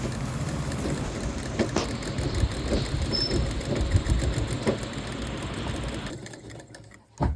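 A sewing machine runs continuously while stitching the shoulder seam of a blouse, a steady mechanical whir that stops briefly near the end.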